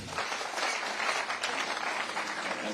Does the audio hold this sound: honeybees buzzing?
no